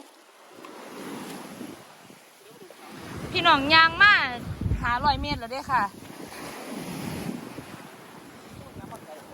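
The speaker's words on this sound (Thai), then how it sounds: "เราดูทั้งคลื่นสวยๆแล้วเราก็บำบัดธรรมชาติไปด้วยนะคะ" Ocean waves wash on Jomtien beach in Thailand, a soft continuous surf rush buffeted by wind on the microphone, while someone talks loudly over it partway through.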